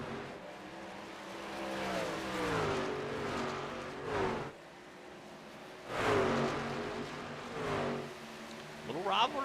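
Racing trucks in a sim racing game at Dover Motor Speedway, with engines droning and swelling as they accelerate and pass, pitch sweeping up and down, underneath steady commentary.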